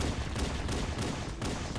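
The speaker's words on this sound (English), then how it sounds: "Oh, explosions." Explosions and gunfire in the Halo video game form a dense, continuous barrage of booming blasts and crackling shots, steady and loud throughout without any speech.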